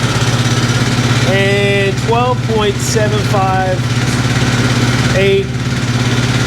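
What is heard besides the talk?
Kawasaki Brute Force 750 ATV engine idling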